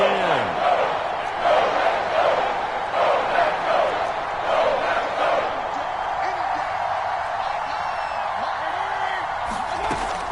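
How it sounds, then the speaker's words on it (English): A large football stadium crowd roars at an NFL game, with a loud, sustained rumble of cheering and yelling that rises and falls steadily throughout and scattered shouts on top. "Crowd getting in it a bit already."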